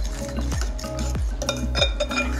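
Spoon or whisk stirring oat pancake batter with flour and oat flakes in a bowl, a few close scraping strokes with faint clinks against the bowl, alone with no talk.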